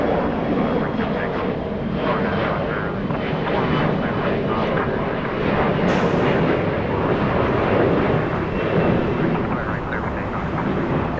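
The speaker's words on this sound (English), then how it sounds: "767. Just driving around, waiting for a gate to open up." Boeing 767 airliner taxiing at Los Angeles International Airport, waiting for a gate: a steady, loud jet engine rumble and roar holding throughout, with a brief brighter surge midway.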